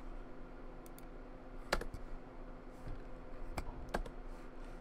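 Number keys on a computer keyboard clicked to select aircraft in World of Warships, a few sharp, sparse taps over a low steady game hum, fairly quiet.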